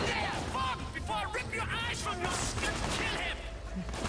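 Gunfire in a video game as a dense stream of shots under excited talk, a loud and continuous backdrop with a voice speaking over it.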